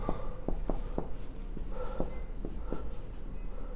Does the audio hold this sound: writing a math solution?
yes